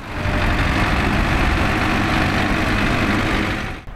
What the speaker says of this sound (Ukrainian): Його досі розрівнює трактор.